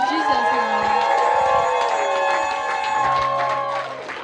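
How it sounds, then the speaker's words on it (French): A youth church congregation claps and cheers for Jesus, with crowd noise and voices mixed over sustained musical tones, energetic and fairly loud before easing off. "Can you clap for Jesus?"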